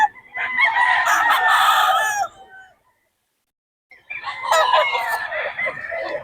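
Roosters and stag fighting cocks crow and cluck at a poultry market in Bocaue, with two loud bursts of crowing split by a short pause of quiet.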